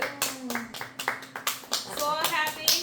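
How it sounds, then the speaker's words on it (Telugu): A small family group claps at home to celebrate a new house, giving a handful of sharp, uneven claps close by, mixed with a child's and adults' excited voices. "Claps claps."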